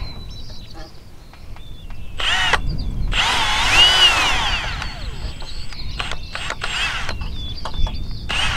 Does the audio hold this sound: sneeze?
no